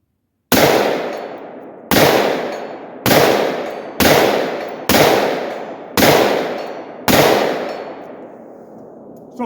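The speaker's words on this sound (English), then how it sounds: "Okay, 150 yards. This is with the Radical Firearms Spitfire." Seven loud 5.56 rifle shots fired through a Radical Firearms Spitfire muzzle brake at a 150-yard range, evenly spaced about a second apart, each a sharp blast with a ringing decay.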